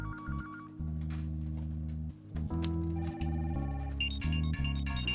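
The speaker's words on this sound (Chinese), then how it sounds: "不好意思，这个电话。" A telephone rings indoors in an office drama scene, playing a melodic electronic ringtone whose tonal phrases repeat and shift in pitch, clear and unaccompanied by talk.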